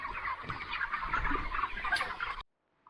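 Chickens crowd a poultry farm shed, giving a dense, continuous chorus of chirping and chattering from many birds at close range, alone without talk, ending abruptly.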